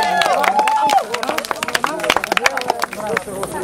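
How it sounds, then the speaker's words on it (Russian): Scattered clapping from a children's summer camp audience at an evening campfire gathering, mixed with lively children's voices and chatter. "Аплодируем."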